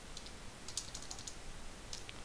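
Soft, close keystrokes on a computer keyboard during an Arch Linux install, a few scattered clicks with short pauses between them, with quiet hiss in the background and no talking.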